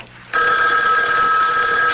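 A telephone bell rings in a radio mystery drama, cutting in suddenly after a brief hush. The ring is loud, close and continuous, a steady bright electric trill with no voices over it.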